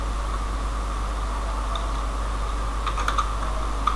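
Fast, light keystrokes on a computer keyboard rattle in short bursts near the end over a steady electrical hum and background hiss, with no talk.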